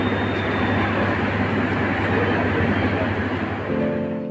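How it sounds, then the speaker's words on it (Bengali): Dhaka-Mohanganj intercity express train pulling into Airport railway station, a loud continuous rumble and drone of the moving carriages that carries on without a break. "ঢাকা আন্তনগর মোহনগঞ্জ এক্সপ্রেস প্রবেশ করছে বিমানবন্দর রেলওয়ে স্টেশনে"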